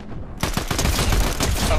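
Rapid gunfire in Fortnite, a fast dense burst of shots starting abruptly after a short quiet lead-in and continuing loud and close to the end, with a voice faintly beneath.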